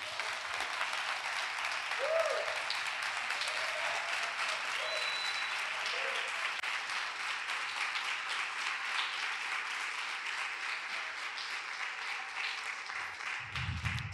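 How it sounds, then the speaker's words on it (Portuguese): Sustained applause from a church congregation during a sermon, dense and steady throughout with a few brief voices and cheers mixed in, a broad continuous wash of clapping. "Você pode aplaudir o nome de Jesus?"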